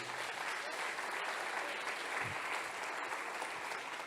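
A church congregation claps in a steady, even wash of applause that stays moderately loud from start to finish.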